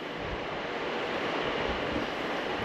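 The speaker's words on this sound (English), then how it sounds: "We're gonna turn on the fan itself" A ceiling fan runs close by with a steady, broad whooshing rush of air, even and unbroken throughout.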